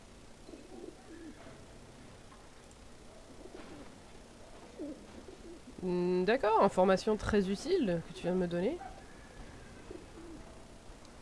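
Pigeons coo in a rhythmic, warbling burst that rises loudly for a few seconds in the Alice: Madness Returns video game, following quieter stretches where someone talks over soft background ambience.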